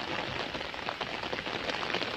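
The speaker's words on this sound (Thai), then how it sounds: "ฝนตกด้วยค่ะ" Steady rain pours down on kratom plants outdoors during a storm, a dense, continuous hiss of drops striking leaves, with no talking.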